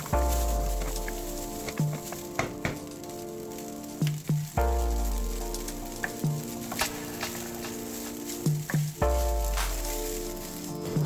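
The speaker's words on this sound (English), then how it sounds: "you mix them up and then you stir and stir and stir again" Dried scallop fried rice stir-fried in a pan on high heat, with steady sizzling and repeated scraping and tossing strokes in three long cycles, clattering utensil hits punctuating the frying, no talk.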